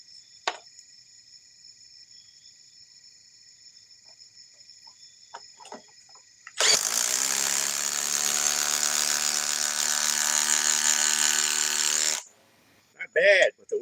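A ratchet fitted with new Ryobi sockets runs in one loud, steady, buzzing burst of about five seconds after a quiet stretch, then stops, followed by a couple of brief knocks.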